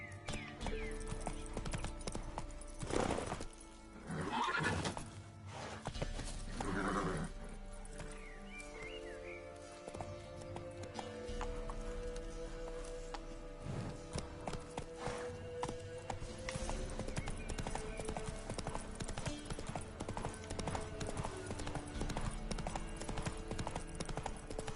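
Roach, a horse in The Witcher 3, gallops with continuous rhythmic hoofbeats across a long stretch, mixed with game music and a brief whinny.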